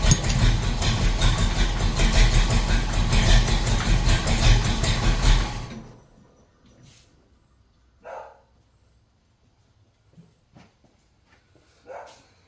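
A car engine with a badly tuned carburetor runs loud and rough for about six seconds, then cuts off, leaving near silence with a few faint scattered knocks.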